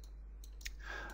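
A single mouse click, close and faint, made while working in 3ds Max with a kitchen cabinet creator tool, alone over a quiet low hum.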